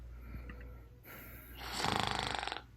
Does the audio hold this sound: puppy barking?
no